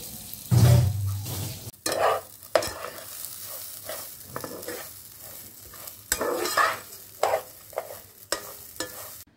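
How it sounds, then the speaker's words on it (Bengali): Rice stirred into hot ghee with whole garam masala for pulao, a loud initial sizzle followed by repeated scraping stirs and clinks of a spoon against the pan, close up with no talk. "ঘি গরম হয়ে গেছে, গোটা গরম মশলা দিয়ে দিয়েছি, চালটাকে দিয়ে দেবো"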